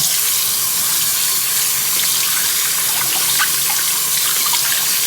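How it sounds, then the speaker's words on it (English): Salted vegetables for bread and butter pickles rinsed under a running kitchen tap, a loud steady gush of water splashing into a sink, close and continuous with no talk. "we're going to wash off the salt"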